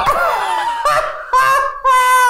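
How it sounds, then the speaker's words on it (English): A goose honks three times, loud and close, each call nasal and bright, with short gaps between them. "Thank you, Mother Goose."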